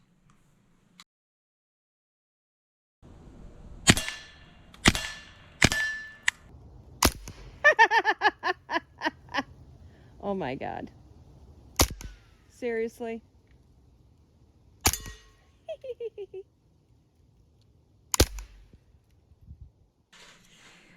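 Sharp, loud single shots from a Sig Sauer .22 pistol crack out at irregular spacing. People talk and react excitedly between the shots.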